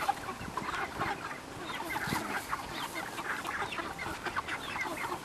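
Backyard broiler chickens cluck and chatter steadily at close range during chores around their movable coop, with overlapping calls and a few louder squawks and no talking.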